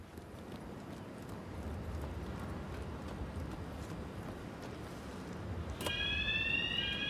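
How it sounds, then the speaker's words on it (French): Fire alarm going off in the Hitman video game, entering abruptly near the end as a loud, steady electronic ringing over a dense, continuous background hubbub. "Alors faut évacuer quand on entend une alarme incendie, les amis."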